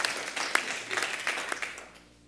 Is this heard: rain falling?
no